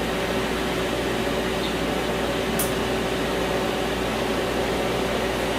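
An A/C service machine pulls a vacuum on a Hyundai Elantra that lost its refrigerant charge, giving a steady, even mechanical hum and hiss throughout with one faint brief tick.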